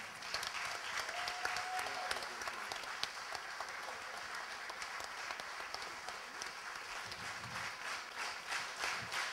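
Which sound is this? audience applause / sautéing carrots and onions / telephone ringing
audience applause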